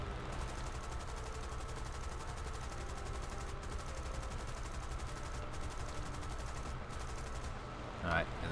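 A Hurricane fighter in War Thunder fires its machine guns in a fast, even rattle of many rounds that runs for several seconds, with brief pauses between bursts, over a steady engine drone.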